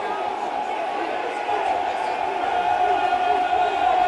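A football stadium crowd at a Watford versus Millwall match roars as a scuffle breaks out on the pitch, a dense sustained wall of distant shouting that swells louder partway through.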